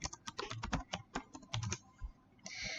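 Rapid typing on a computer keyboard, a burst of distinct key clicks in an uneven rhythm, close and clear with no talking.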